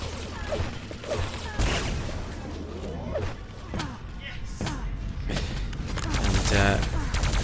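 Railgun and plasma gun fire in a competitive Quake match, with sharp zaps, bursts and impacts scattered through the stretch under an excited commentator's voice.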